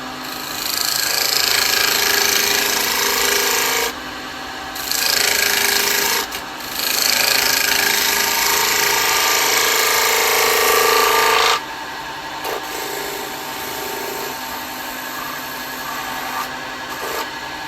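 Wood shavings rasp off a spinning workpiece on a wood lathe as a smaller gouge cuts a turned wooden cowboy hat, loud bursts of cutting broken by short pauses, then a quieter hum of the running lathe.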